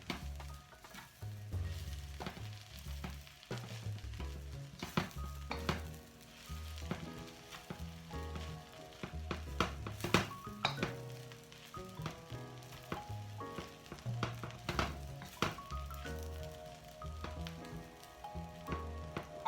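Mixed vegetables and couscous are stirred in a hot pan, a busy, crackling sizzle running throughout with frequent scraping and clattering strokes of the utensil, close and steady, without talk.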